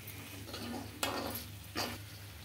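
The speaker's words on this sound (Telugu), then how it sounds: "ఒక 5 మినిట్స్ ఇలానే కలుపుతూ ఫ్రై చేసుకుంటే" Chicken frying with masala in a pan while being stirred, a soft steady sizzle close by punctuated by two sharp scraping clinks of a spoon against the pan.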